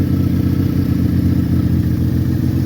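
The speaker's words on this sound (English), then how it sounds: "Warming up the Benelli 6-cylinder." A Benelli six-cylinder motorcycle engine warms up at idle, giving a loud, close, steady low rumble with a fast, even pulsing throb and no voices over it.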